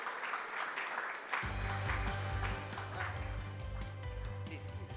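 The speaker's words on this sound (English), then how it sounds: "Let's give the man a round of applause." Audience applause rings out at a sports awards ceremony in Mumbai, a brief lull giving way to sustained clapping layered over a steady musical backing, loud and continuous to the end.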